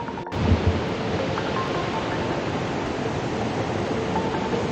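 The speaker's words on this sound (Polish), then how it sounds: "Ale to wciąż tylko wodospad." A large waterfall on the Mekong in Laos roars as a steady, dense broadband rush, close and continuous with no voices over it.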